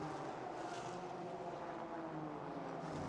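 A Ferrari race car's engine roars past trackside during a Japan Cup 2025 race at Fuji, running in a Nissan's slipstream, as a steady loud drone that holds throughout without fading.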